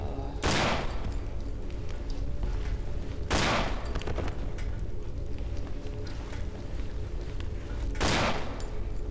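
Gunfire in the Cry of Fear video game, with three sharp, loud shots spread several seconds apart over a constant low background drone.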